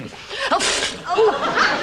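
One person sneezes twice, sharp and close, in a comedy setting blamed on custard creams.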